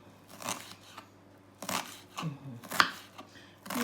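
Knife chopping an ordinary onion finely on a board: a few separate crisp cuts spaced about a second apart, close and moderately loud, with a quiet background in between.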